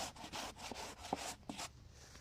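Quiet rhythmic rasping strokes of 220 grit sandpaper on a sanding block working over primer on a vehicle cab repair, several steady back-and-forth passes close by.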